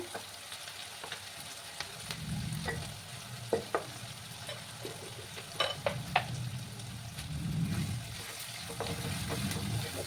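Chopped onions fry in a pan for an Echor Chingri dish, a steady sizzle rising and falling with several sharp clinks of a spoon stirring against the metal, no voices over it.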